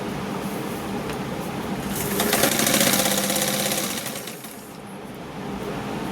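A sewing machine stitches blouse lining in a quick, even rattle that swells louder for a couple of seconds mid-run before settling back, close by with no talking.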